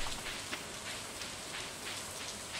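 Steady rain falls continuously, a soft, even hiss of drops pattering on a surface with no voices, holding a constant level throughout.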